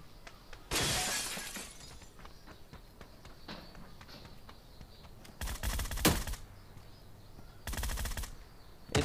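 Gunfire in the mobile battle royale game New State, with a loud burst early on and two later rapid automatic volleys, separated by quieter in-game movement and faint clicks, with no talking.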